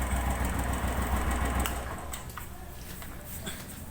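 A Royal Enfield Thunderbird 350X single-cylinder engine idles close by with a low, steady thrum during a home oil change, then the engine note fades and quiets.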